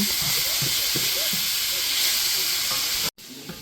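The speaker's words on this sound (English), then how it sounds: "now I'm just going to cook it until the beef is done." Grass-fed beef sizzles and hisses steadily in a pan with occasional stirring scrapes, loud and continuous, before cutting off abruptly near the end.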